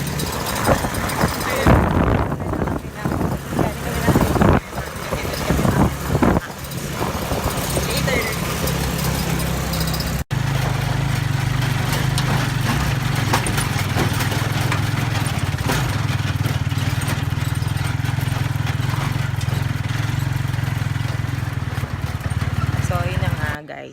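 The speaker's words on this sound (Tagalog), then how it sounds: "Nasa tricycle kami ngayon." Steady engine drone of a motorized tricycle carrying passengers on a weekend trip in Calatagan, Philippines, a loud low hum running continuously under wind noise, with rougher bumps and voices in the first ten seconds before the engine settles.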